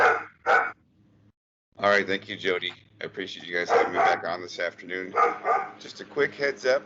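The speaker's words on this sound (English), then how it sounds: "the lawnmower guy's here mowing the lawn, and which makes my dogs bark" Dogs bark in bursts indoors, set off by a lawnmower cutting the lawn outside; someone talks steadily over them.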